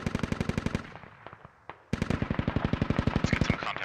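Automatic gunfire rattles in a Squad military game, two close rapid bursts separated by a short gap with a few single shots, loud and sharp.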